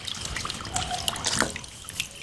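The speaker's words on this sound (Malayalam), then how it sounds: "വാൾവ് തുറന്നു കഴിഞ്ഞാൽ വെള്ളം വരും" Muddy water gushes with force from an opened valve on a water tank being cleaned, a close splashing trickle with scattered drips and no voices.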